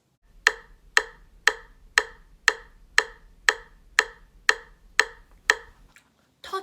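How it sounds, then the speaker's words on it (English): A metronome set to 120 beats per minute gives twelve even, sharp clicks, one every half second, close and clear with nothing else behind them. "A metronome is a device that helps provide a clicking sound at a certain speed"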